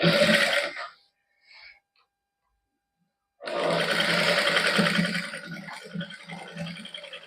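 A sewing machine stitches white lace onto palazzo pants, with a short burst of loud whirring, a pause, a brief buzz, silence, then a long steady run of close mechanical stitching that rattles toward the end.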